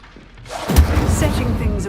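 An Incendio fire spell cast in Hogwarts Legacy: a single whooshing burst that swells into a sustained low roar of flame, heard close and loud in the game.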